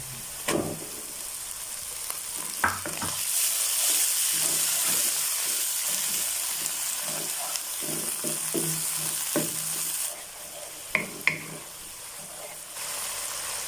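Crushed tomatoes go into a pan of frying cauliflower masala, with a continuous soft sizzle punctuated by several sharp clinks and stirring scrapes; the sizzle swells and then eases near the end.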